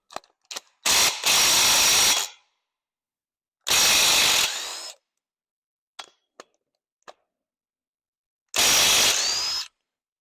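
Impact wrench removing bolts from a Mopar LA 360 engine during a teardown: three loud, close hammering bursts of one to two seconds each, separated by silence and a few short metallic clicks.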